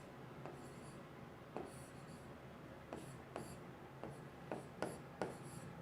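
Someone writes a chemistry equation on a board, making a quiet run of short scratching strokes and taps in an uneven rhythm, faint against a soft room hiss.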